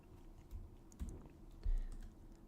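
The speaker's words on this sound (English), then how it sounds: "Hit enter and make sure to dedent before typing else." Someone types code on a computer keyboard, a few soft scattered key taps and a firmer press like an enter key, quiet and close with no talking.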